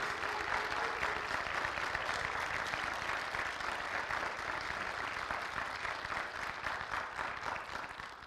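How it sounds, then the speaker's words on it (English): An audience at a nursing ceremony gives steady, full applause for the nursing students, a continuous wash of clapping from a sizable crowd lasting several seconds without talk. "give them a nice round of applause."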